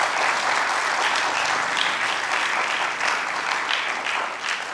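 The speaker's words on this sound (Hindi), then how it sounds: "आपको पसंद आई हो तो आपकी तालियाँ हमें चाहिए।" Audience applause after a stage play adapted from Parsai's stories: dense, steady clapping from a full house that holds loud and even throughout.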